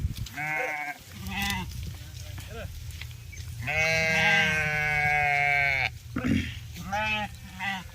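A flock of sheep bleats repeatedly at close range after being rounded up on a rainy day, with several long wavering cries overlapping steady background noise.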